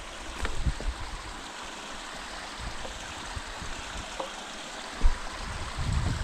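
A creek flows steadily nearby, with a constant broadband rush of running water and occasional splashes and knocks. No one talks.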